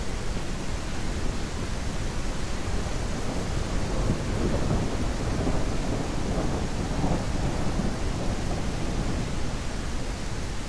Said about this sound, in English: This storm's pretty full on, man.